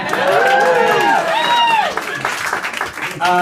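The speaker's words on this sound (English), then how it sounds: "Damn it, applaud." Crowd applauding at a party celebrating Elizabeth Warren, steady dense clapping mixed with cheering voices and whoops throughout.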